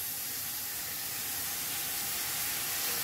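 Capsicum and carrot frying in mustard oil in a pan for veg momo filling, a steady, even hiss of sizzling, close and unbroken.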